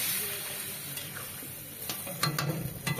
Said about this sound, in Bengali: এবার আমি জল দিয়ে দেব, অল্প করে জল দেব